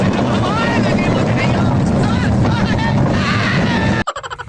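A tractor engine heard from the seat while riding along a rough village track, a steady loud rumbling drone with a voice talking over it, cutting off abruptly near the end.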